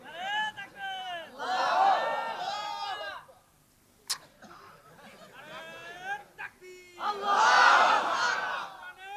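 A crowd at an outdoor sermon chants a slogan in loud unison bursts separated by pauses. A single sharp knock falls in the middle, and the final shout is the loudest.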